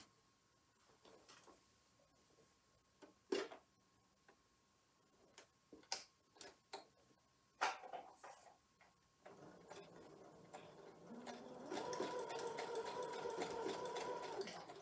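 A sewing machine stitches fabric at a short 1.3 stitch length while a clamshell quilt block is pieced. Scattered close clicks and taps come first, then a rapid, steady mechanical stitching chatter for the final few seconds.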